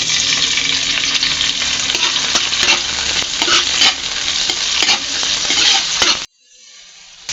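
Tomatoes sizzle in a pan of sautéing onion and garlic, loud and close, with scraping stirs and clinks running through the frying hiss. The sound cuts off abruptly near the end.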